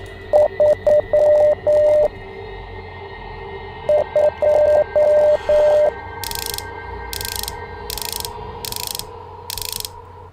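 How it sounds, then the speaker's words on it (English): Morse code beeps from the horror video game Rise of Insanity, two bursts of steady short and long tones in a clear rhythm, followed by a few louder high ticking pulses, with no talking. "I'm guessing I gotta decipher Morse code now for that code"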